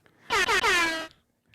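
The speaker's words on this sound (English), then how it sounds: "I appreciate the air horns because I" A single loud air horn sound effect blasts in three quick joined pulses, then cuts off, standing alone with no talk around it.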